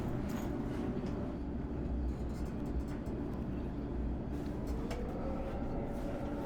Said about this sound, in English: For now, I'll take the train and head north.